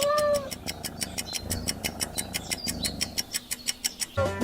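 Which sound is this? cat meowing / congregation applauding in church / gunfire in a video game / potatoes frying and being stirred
cat meowing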